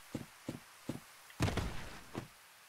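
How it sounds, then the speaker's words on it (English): Heavy enemy footsteps in the Dark Souls video game thud in a slow, regular rhythm of about four dull impacts, then a longer rumbling scuffle, then another step, fairly close and with no talk over them. "I just heard his footsteps."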